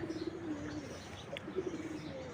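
Domestic pigeons, kept as racing or flying birds at a home loft, coo in low repeated phrases at close range, with a few faint chirps and steady background noise.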